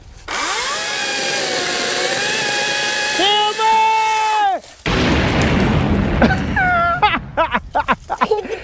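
A Green Machine battery chainsaw cuts down a tree: a loud, steady motor whine runs for several seconds, wavering as the blade bites. A sudden crashing rush follows as the tree comes down, then scattered cracks and rustles.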